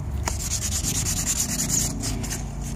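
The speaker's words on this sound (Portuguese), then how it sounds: "agora a lixa grossa já tem o poder de soltar mais rápido. Vou molhar aqui." Coarse sandpaper scrubs back and forth over a rusty, wetted car wheel rim in quick, rhythmic rasping strokes, close and steady, with no talk.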